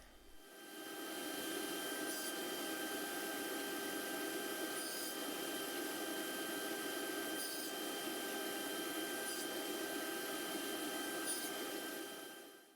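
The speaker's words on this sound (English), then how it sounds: "Just cutting the shoulders." A power saw cuts the shoulders of wooden tenons on chair rails, a steady, fairly faint whirring drone that runs unbroken for several seconds, with faint periodic clicks above it.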